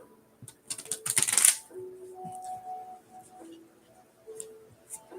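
Tarot cards are riffled in a quick, crisp flurry, followed by softer scattered flicks and taps of cards being handled up close.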